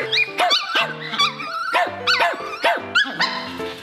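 Three small dogs barking and yipping excitedly in a photo studio, loud overlapping bursts in a rapid, irregular rhythm, close by with no talk.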